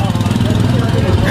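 A rented scooter's small engine runs at a steady idle in Leh, a close, loud putter with a little mechanical chatter and possible voices nearby.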